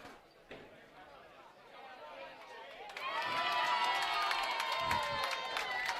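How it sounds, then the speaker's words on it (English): Bowling crowd at a U15 national championship qualifying event bursts into loud cheering and shouting partway through, rising from a low murmur to a sustained roar with whistles. "And the crowd goes wild."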